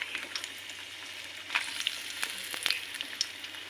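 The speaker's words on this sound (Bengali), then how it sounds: "এখন মরিচ ভেজে নেব আমি" Dried red chilies frying in oil for a vegetable mash, giving a soft, steady sizzle with scattered small pops and crackles, close by and moderately quiet, with no talking.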